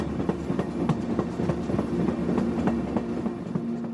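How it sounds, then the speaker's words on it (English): A train runs on rails with a rhythmic clickety-clack of wheels over joints and a steady rumble underneath, at moderate loudness throughout. "So they get a train and they got the inside of one of the train cars and they totally change it out."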